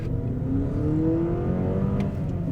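A Honda CR-V 2.0L e:HEV in Sport mode accelerating hard at full throttle, its engine note piped through an active sound speaker as a smooth, steadily rising hum and whir from inside the cabin.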